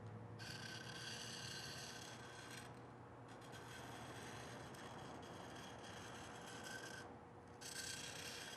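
A woodworking tool honed on a Norton oil stone in repeated rhythmic strokes, a close, steady scraping rasp with brief pauses between passes.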